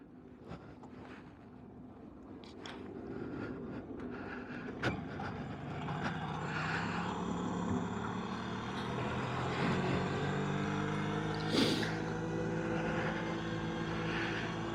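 A 1974 Piaggio Ciao moped, the 25 mph model, pulls away after a pedal start, its small engine a thin drone that rises and settles under steady wind rush, with a few clicks at the outset.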